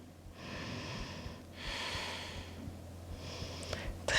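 Slow, deep breaths during a vinyasa yoga flow, three drawn-out airy exhales spaced a second or so apart, close and quiet with no talk.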